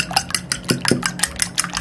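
Whole eggs being beaten with a utensil in a bowl, heard as a close, irregular series of quick clicking strokes against the dish, with no voices.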